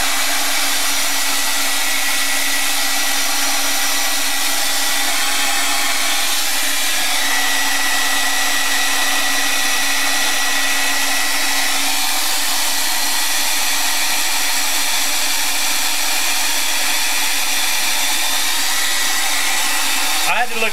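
A hair dryer blows steadily and loudly at close range for about twenty seconds while drying an art journal page, a constant whirring roar with a faint hum beneath it.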